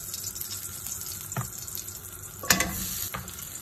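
Green curry paste fries in hot oil in a pan, a steady soft sizzle with occasional stirring clatter and light scrapes, no talking.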